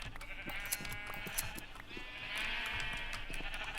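Sheep bleat in Minecraft, several wavering, nasal cries from the blocky game animals overlapping each other and swelling louder toward the end, with no talk.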